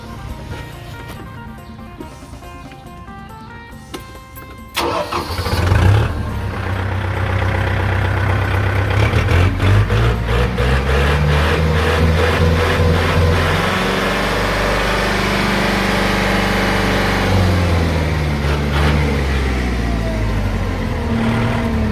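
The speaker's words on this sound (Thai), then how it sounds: "เดี๋ยวเราลองมาสตาร์ทเครื่องยนต์ดูนะครับ" A used Kubota MU4902 tractor from 2019 cranks briefly and its engine catches at about five seconds, then settles into a loud, steady diesel idle with a slight rise and fall in pitch, no talking.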